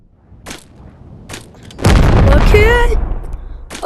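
Fireworks going off in the video game Animal Company: a few soft pops, then a loud sustained booming burst with whistling, crackling trails.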